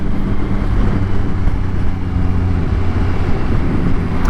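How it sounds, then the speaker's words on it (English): A Yamaha Tracer 9 GT motorcycle is ridden, its engine a steady low rumble blended with heavy, continuous wind buffeting. No speech. "Hopefully you can pick up from the GoPro, like the sort of engine noise"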